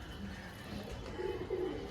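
Pet pigeons coo softly nearby in a domestic loft, low throaty calls rising twice toward the end over a faint background hum.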